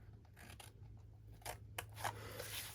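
Scissors cutting paper for a gift box, with a few crisp snipping and sliding cuts at close range over a quiet low hum, and no talking.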